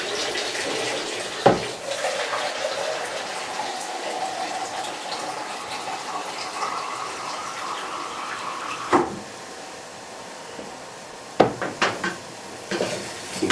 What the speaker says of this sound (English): I've got to use it out of the sink, okay?